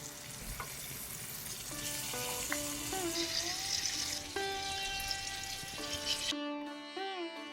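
Pointed gourd (potol) fries in hot oil in a kadai, giving a steady, close sizzle that continues unbroken, with soft background music and no talking.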